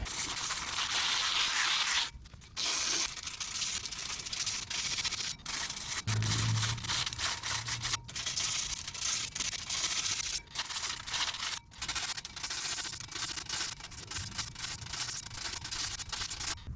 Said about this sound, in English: I'm just going to grab some sandpaper. This is 60 grit, and I'm just going to try to scratch some of that glaze up